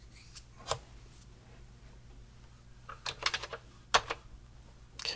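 Scattered keystrokes tapped on a computer keyboard during work on a refurbished Commodore 1581 disk drive setup, a few single clicks and then a brief quick burst, close and fairly quiet with pauses between.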